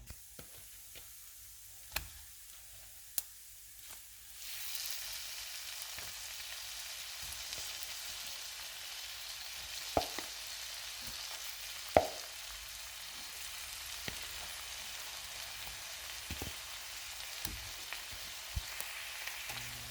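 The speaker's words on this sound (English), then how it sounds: "we're going to go ahead and drop them right into our pan with the garlic butter" Shrimp frying in a pan of garlic butter give a steady sizzle that swells after a quiet start, with a few sharp pops and clicks scattered across the hiss.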